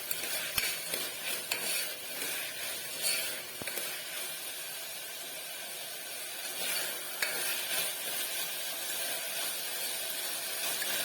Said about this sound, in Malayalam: ഇനി ഒന്നുകൂടി വഴറ്റിയെടുക്കാം